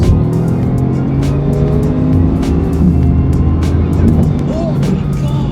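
A Bugatti supercar accelerates hard on the road, its engine roaring loud and close from inside the cabin with a sustained, rising drone and gear-shift pulses.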